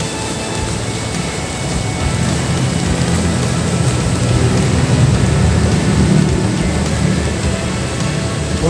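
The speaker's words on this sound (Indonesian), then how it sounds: "Hujan sahabat, gerimis, semangat." A steady, even hiss of light drizzle falling by a river fills the space without pause, constant and fairly close, with no voices.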